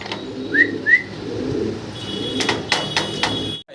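A young pigeon, about seven months old, gives two short soft calls close by, followed by a few brief clicks and rustles over a low indoor background hum.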